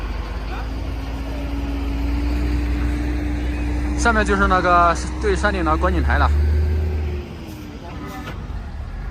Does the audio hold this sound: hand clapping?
no